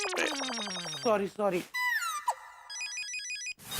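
Telephone ringtone of an electronic warbling, musical kind, rising and stepping through chirpy tones with brief breaks, fairly close, with a short spoken word near the end.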